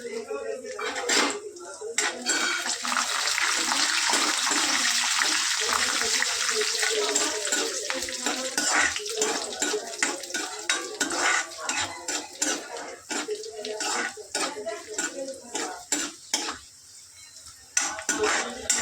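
Cashews, raisins and coconut fry in a pan, a continuous close sizzle broken by frequent scrapes and clinks of a stirring spoon, with a voice talking over it.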